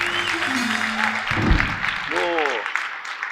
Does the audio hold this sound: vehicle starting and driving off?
no